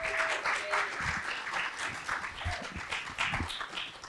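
A conference audience at the Alaska Music Summit applauds a musician and her event team, steady moderate clapping from a crowd for about four seconds.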